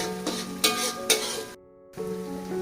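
Shallots, garlic, citrus leaves, turmeric leaves, celery and scallions are sautéed in a pan for Padang satay sauce, a steady close sizzle broken by three scraping stir strokes and a brief pause.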